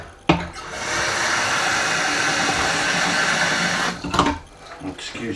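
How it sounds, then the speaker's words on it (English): An electric kettle heating water rushes with a loud, steady hiss and roar for several seconds, framed by clicks and handling knocks at the start and end. "Excuse the noise while I wait for this kettle to boil."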